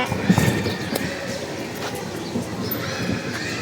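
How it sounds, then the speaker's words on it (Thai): A horse-drawn carriage rolls along as hooves clip-clop in an uneven rhythm, with a brief whinny-like call and faint background chatter. "ค่ารถม้า"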